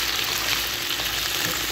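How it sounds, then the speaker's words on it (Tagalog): Potatoes fry in a small amount of cooking oil in a home kitchen, giving a steady, loud, close sizzle that continues without a break and with no voices. "prito lang natin konti yung patatas"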